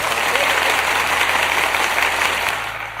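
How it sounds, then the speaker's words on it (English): Loud, steady applause rolls through a live after-show audience, a dense crowd clapping for a few seconds before tapering off at the close. "I'm gonna applaud myself 2 more times."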